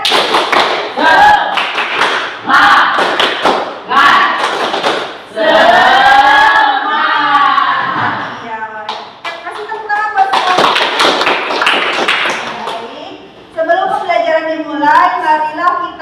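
Schoolchildren in a classroom chanting and clapping a rhythmic cheer together, loud close group voices punctuated by sharp unison claps and taps in a repeating pattern, with singing-like chanted syllables throughout.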